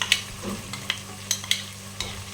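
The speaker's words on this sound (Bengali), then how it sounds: "এই যে এখানে পেঁয়াজটা যেটা বেটে রেখেছিলাম সেইটা আমি দিয়ে দিচ্ছি।" Ground onion paste sizzles softly in a hot pan for a Bengali rui fish curry, with a handful of sharp spoon scrapes and clinks as it is stirred.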